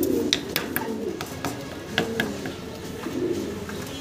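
Fancy pigeons coo softly nearby in a sequence of low, repeated calls, punctuated by light clicks and rustles from the birds.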